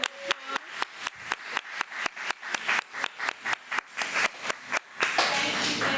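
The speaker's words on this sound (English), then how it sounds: "Let's please give all of our departments another round of applause." Applause at a school district regular board meeting, a few people clapping in a steady, fairly close rhythm of distinct claps, building into a fuller patter of hands near the end.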